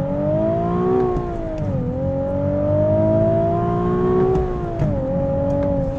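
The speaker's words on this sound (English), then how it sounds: "there is my power shift up. And I love this engine. It kind of has like a moan to it." A 2020 Nissan 370Z NISMO sports car engine revs hard and moans through a power upshift, its loud tone climbing, dipping at the shift, then climbing again, close and continuous.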